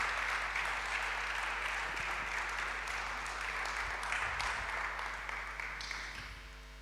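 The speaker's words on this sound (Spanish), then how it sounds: "Muchísimas gracias, un fuerte aplauso para ellos." An audience gives a sustained round of applause after a talk, the clapping steady and moderately distant before gradually fading toward the end.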